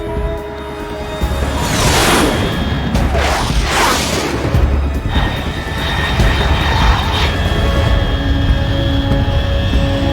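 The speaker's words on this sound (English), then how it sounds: "Unidentified aircraft detected." A fast aircraft at 30,000 feet in Metal Gear Solid 3 roars overhead in a video game, a loud sustained engine rumble with sweeping whooshing passes, steady and close throughout.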